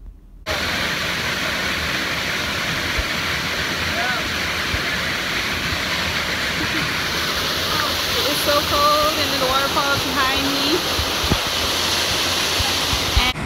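A waterfall in Puerto Rico pours with a steady, loud broadband roar that fills the whole stretch without pause, while someone talks briefly over the rushing water near the end.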